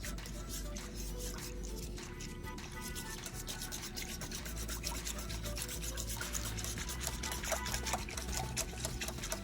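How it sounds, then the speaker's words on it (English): A steady, close scraping and rubbing as a coffee mixture is whisked in a bowl, continuous and rhythmic with no pauses or talk. "let's whisk this together"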